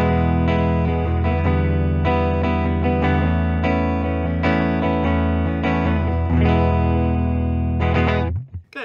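2021 PRS Mark Tremonti Signature 10 Top McCarty electric guitar played through heavy distortion, with loud, sustained chords and single notes in a steady rhythm that cut off abruptly at the end.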